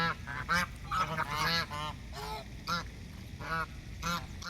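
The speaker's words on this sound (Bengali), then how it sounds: "এই পুকুরে অনেক রকমের হাঁস ঘুরছিল" Ducks and geese on a small pond on a university campus in Beijing. Several birds honk and quack at close range in overlapping, irregular calls, with a steady outdoor background underneath.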